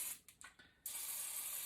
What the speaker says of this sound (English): spray your rack as well.